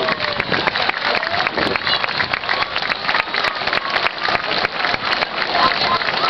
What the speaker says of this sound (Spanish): van a pasar un aplauso para Seprona